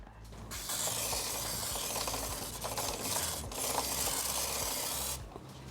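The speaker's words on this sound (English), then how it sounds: "We use chain clean to clean the side plates, where the loop is not acquired, inside and outside" Chain cleaner sprayed onto the side plates of a BMW endurance racing motorcycle chain, a steady broad hiss running nearly continuously for about five seconds with brief pauses and faint mechanical clicks underneath.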